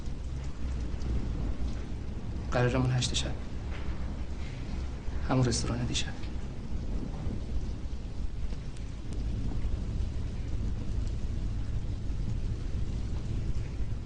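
Steady rain falls throughout with occasional rumbling thunder in the background, while two people speak briefly over the continuous downpour.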